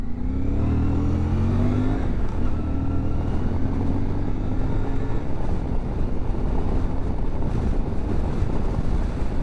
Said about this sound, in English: We're kind of windy today.